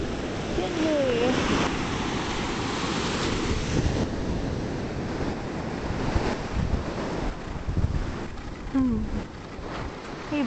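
Ocean surf rolls and washes steadily onto a beach on a windy day, with gusts buffeting the microphone throughout and voices calling out over the roar.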